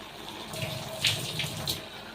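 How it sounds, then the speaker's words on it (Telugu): Water runs and splashes into a cooking pot of mutton and broad bean curry for a couple of seconds, a steady pour with a few brighter splashes. "ఇప్పుడు వాటర్ అయితే వేస్తాను ఇందులో"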